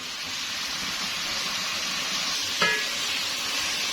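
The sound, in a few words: chicken frying in a pan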